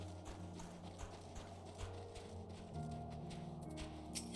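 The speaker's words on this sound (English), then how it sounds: "I think I'm hearing Quasia's footsteps." Hooved creature footsteps in Final Fantasy XIV, an even clip-clop walking rhythm heard close over a bed of tonal game music and ambient tones.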